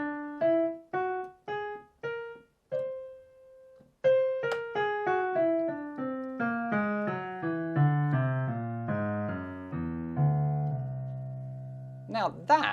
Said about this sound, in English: So a C whole tone scale would sound like this.